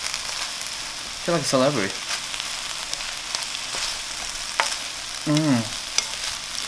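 Shrimp fried rice with soy sauce sizzles steadily in a hot pan while being stirred, a constant close frying hiss with scraping, as a person talks and hums briefly over it.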